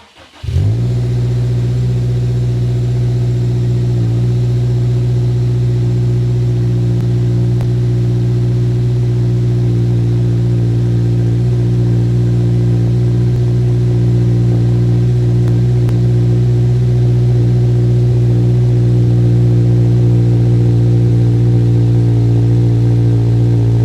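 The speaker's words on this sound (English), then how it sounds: "We'll get our first cold start in with our new map" A tuned Subaru WRX engine, running a Cobb map, catches on a cold start and settles into a steady, loud, high idle that holds near the mic for the rest of the run with no talking.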